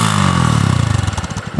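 Budget dual sport motorcycle with an aftermarket exhaust revs close up, a loud throaty burst that pulses and drops in pitch as the throttle eases off.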